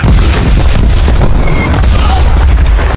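Gunfire aimed at a decoy tank in a war film sounds as loud, dense booming blasts, a continuous barrage of heavy detonations filling all three seconds with no pauses.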